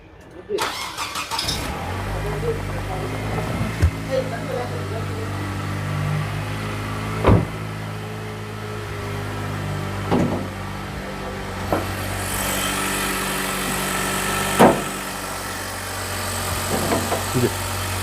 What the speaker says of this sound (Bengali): ইঞ্জিন স্টার্টে রাখছেন ভাই?